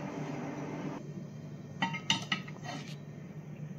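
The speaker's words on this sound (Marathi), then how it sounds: "आता आपण याला वरती तवा ठेवणार आहोत" A few light metallic clinks and scrapes as a metal griddle is set down on a pot of mutton biryani, fairly soft against a quiet background.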